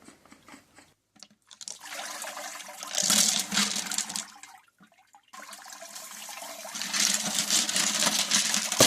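Water rinsing metal parts after tumbling in baking soda, a steady running splash that stops briefly twice then resumes, fairly loud and close, with no talk.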